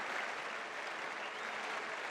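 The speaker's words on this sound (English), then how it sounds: "to applaud the Australian batsman as he goes back. A brave innings, 7 for 214. Dean Jones" A large cricket crowd at a 1986-87 Australia vs England one-day match applauds a departing Australian batsman, a dense, sustained roar of clapping filling the whole moment.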